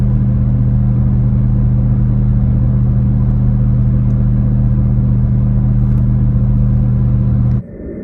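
Steady, low engine drone from a Y62 Nissan Patrol SUV with a Pacemaker cat-back exhaust cruising in seventh gear at constant speed, a deep continuous hum that cuts off abruptly near the end.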